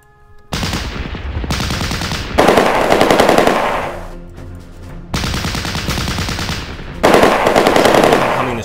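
Bren light machine gun firing in the Battle Academy war game, several loud sustained bursts of rapid automatic fire separated by short pauses, with lingering rumble between them.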